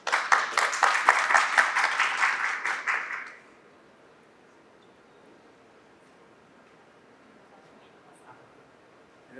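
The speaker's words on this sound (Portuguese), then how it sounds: "Uma salva de palmas, pessoal." An audience claps for a speaker at a medical-device regulatory conference, a dense burst of applause lasting about three seconds, then quiet room tone with faint murmurs.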